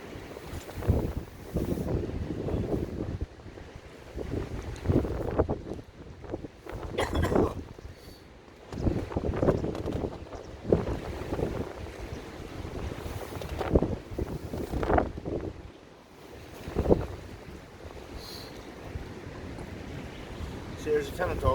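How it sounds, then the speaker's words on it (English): Strong gusting wind buffeting the microphone on a boat during pike fishing, loud roaring bursts rising and falling over about twenty seconds, with water sounds underneath. "Well, folks, it's windy as hell."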